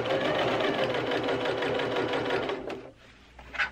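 A sewing machine runs fast and steady as it stitches the folded hem of a circle skirt, a close loud whirring chatter that stops near the end, followed by a brief faint clunk.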